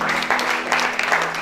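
A church congregation at a family worship service breaks into applause for Jesus Christ, a short burst of dense, close clapping.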